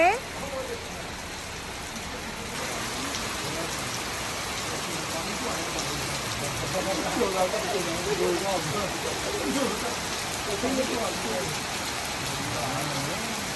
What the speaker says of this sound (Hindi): गाइस ये चेक करें कितनी तेज बारिश हो रही है।